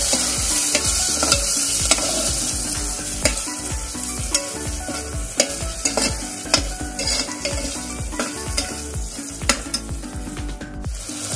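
Large chopped tomatoes sautéing in a pan for Mumbai-style pav bhaji, a dense sizzle under repeated rhythmic stirring and scraping strokes, close, loud and continuous throughout.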